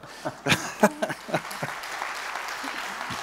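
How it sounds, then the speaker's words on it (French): A handful of scattered, loud claps from an audience at a season presentation quickly thin out and fade, leaving a quiet room with faint murmuring voices. "vous pouvez m'applaudir"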